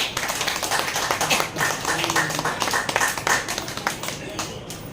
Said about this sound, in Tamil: நல்ல ஒரு கைதட்டல் கொடுங்க